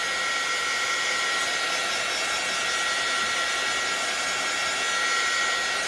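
A hair dryer blows steadily and loudly throughout, a constant broadband whoosh with a faint high whine and no pauses.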